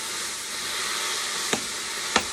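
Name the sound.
stirring Greek beef stew in a pot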